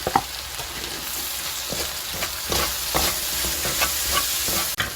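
Squid stir-fried with green onions and shishito peppers in a pan gives a steady, close sizzle broken by scraping stirs and clatter, with no talk.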